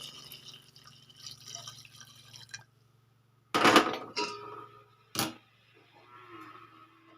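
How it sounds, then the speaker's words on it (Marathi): Hot water poured into thick cooked toor dal, several short splashy pours with brief gaps, close and fairly loud over a quiet kitchen background. "मी थोडं गरम पाणी केलेलं आहे यामध्ये टाकून घेते"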